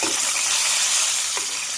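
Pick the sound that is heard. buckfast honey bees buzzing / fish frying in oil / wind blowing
fish frying in oil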